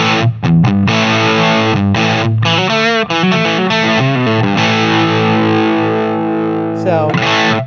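Electric guitar through an amp set to high overdriven gain, playing distorted riffs and sustained notes with heavy saturation, loud and close, with brief gaps between phrases.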